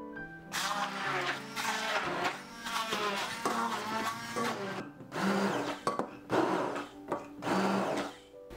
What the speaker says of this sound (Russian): Нам нужно клубнику немного измельчить погружным блендером.